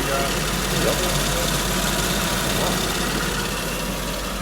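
A Toyota Soarer UZZ31 sits idling in a workshop, its engine giving a loud, continuous low rumble that holds steady throughout with a faint mechanical knock.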